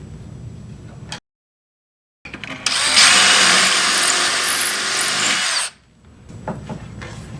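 A power drill bores a hole for a cabinet knob using a hardware jig, a loud steady whir held for about three seconds after a short silence, with faint handling noises before and after.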